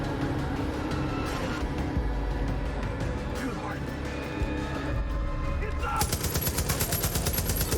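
Bursts of gunfire from the video game Far Cry 5 rattle under near-continuous talk from players, with a sharper run of shots near the end.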